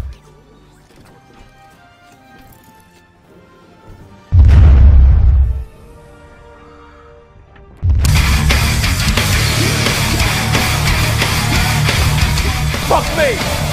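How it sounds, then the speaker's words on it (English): A loud booming explosion in Red Dead Redemption 2 Online bursts out briefly amid game music, then the music continues, louder and denser, after a short lull. "Explosion!"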